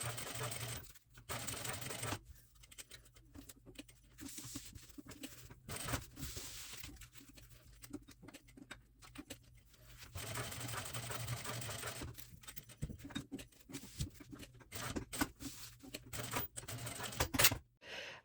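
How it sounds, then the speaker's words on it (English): A sewing machine stitches around a pinned fabric rectangle for a sling-style fanny pack. It runs in steady bursts separated by short pauses, loud and close, with no talking. "once we are done sewing around the rectangle, we can remove the pins"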